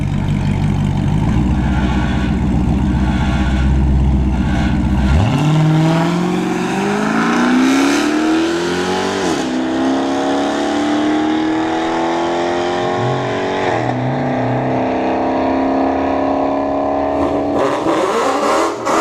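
Dodge Charger SRT8 and S197 Mustang GT launching side by side at a drag strip, loud idle rumble breaking into a hard, rising engine roar with shifts as both cars pull away, staying loud throughout.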